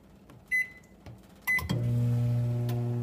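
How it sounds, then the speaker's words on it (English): A household microwave oven heating instant oatmeal starts with a door thud and a beep, then settles into a steady, loud electrical hum that runs to the end. "I'm just gonna put in our handy dandy microwave right here."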